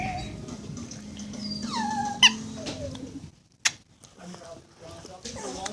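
A dog whines and whimpers in high, squeaky rising cries, scared during a rain storm with hail, while a person talks to it nearby.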